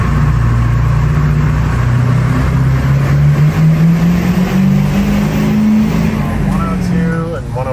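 A 7.3 Powerstroke diesel engine on a dyno pull drones loudly and steadily, its pitch climbing gradually as it revs over several seconds before easing off, with a voice breaking in at the very end.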